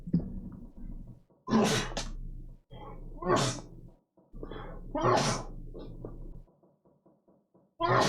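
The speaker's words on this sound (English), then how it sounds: "Oh, I've got to sneeze." Several loud sneezes in a row, each a sharp burst followed by pauses, close to the listener with quiet breathing between.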